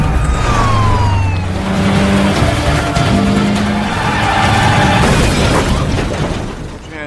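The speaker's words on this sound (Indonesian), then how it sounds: "Denny yang menggunakan mobil Subaru Impreza WRX STI langsung gaspol melawan Tony dengan mobil Mitsubishi Lancer Evo 10 warna putih miliknya" A Subaru Impreza WRX STI and a white Mitsubishi Lancer Evo 10 race at night, engines roaring loud and close with rising revs, pitch sweeps and squealing tyres under a dense, continuous wash of noise.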